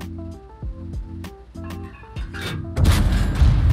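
Tank cannon fire in World of Tanks on the Steppes map: several sharp, booming reports spaced about half a second apart, then a heavy, rumbling blast that swells and holds to the end.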